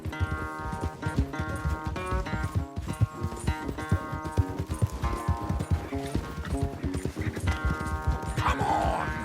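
Horses galloping in a race in Red Dead Redemption 2, with rapid rhythmic hoofbeats throughout, close and loud, mixed with game music and occasional voices.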